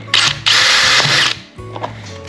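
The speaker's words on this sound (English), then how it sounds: "So what I think I'm going to do is take my drill" A power drill boring a small hole in a boat with a Dollar Tree fishing hack, a loud close whine in two short bursts with motor spin-down between, no talking.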